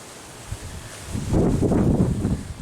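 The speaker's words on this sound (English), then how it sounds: "It's bloody windy." Strong wind gusts from Tropical Cyclone Alfred in southeast Queensland rumble and buffet the microphone, growing louder and rougher partway through, with a faint rustle of leaves behind.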